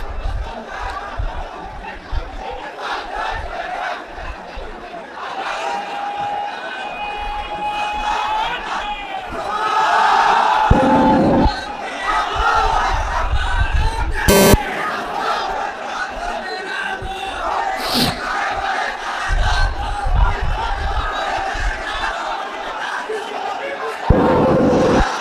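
Crowd at an Islamic religious sermon murmuring and calling out, with bursts of chanting and cheering rising and falling over a steady roomy background, a preacher's voice intermittently talking over it.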